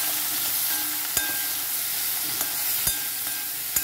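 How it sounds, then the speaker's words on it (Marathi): Vegetables for sambar sauté in a pan, with a steady hissing sizzle and a few sharp knocks of a spoon against the pan. "भाज्या आपण त्या व्यवस्थित परतून घेऊया."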